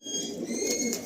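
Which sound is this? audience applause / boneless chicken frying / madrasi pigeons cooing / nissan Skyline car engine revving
madrasi pigeons cooing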